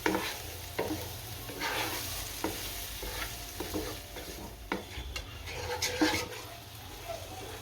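Tomatoes go into fried onions in a pan for Gujarati gathiya curry and are stirred, with a constant sizzle under repeated scraping strokes of a spoon against the pan, close and moderately loud.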